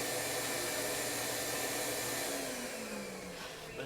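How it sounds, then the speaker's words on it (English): A vacuum cleaner runs with a steady whine and hum in a home workshop, continuous and moderately loud with no one speaking. "Parce que je veux vloguer puis on va entendre le vacuum."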